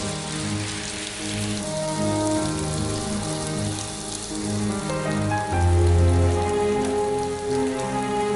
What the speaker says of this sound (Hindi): इतनी बारिश हो रही है, शायद देरी हो जाए